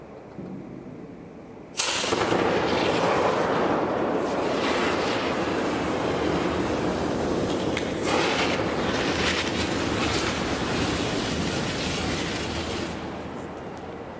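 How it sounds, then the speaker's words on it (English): Lithium-ion battery bursting into flames: after near silence, a sudden loud burst gives way to a sustained roaring, rushing hiss that holds for about eleven seconds and then eases slightly. "or it may burst into flames pretty much immediately, like this example."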